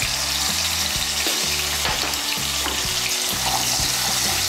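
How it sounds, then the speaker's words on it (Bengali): Potato pieces with salt and turmeric fry in hot oil, giving a loud, continuous close sizzle with faint scraping, and nobody speaks. "আমি আলুগুলোকে লাল করে ভেজে নেব"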